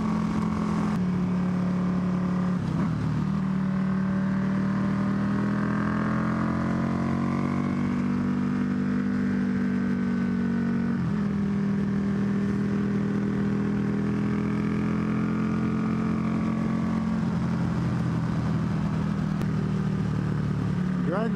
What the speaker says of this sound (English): Now this does have an aftermarket pipe on it. It's made by Barker. It's a good pipe. Sounds good